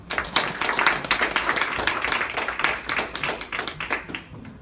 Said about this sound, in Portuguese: Aplaudem Ele.